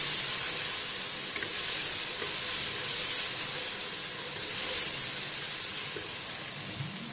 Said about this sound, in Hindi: जिंजर गार्लिक पेस्ट, एक दो मिनट हम फ्राई करेंगे इसको।